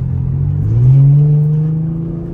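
A lowered Infiniti G37's engine gets a little gas, rising from idle into a short, loud rev that swells and then eases back, heard up close.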